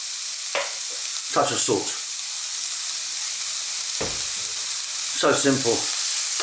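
Fresh garlic and black pepper frying in a pan over medium heat, a steady close sizzle running under brief spoken remarks.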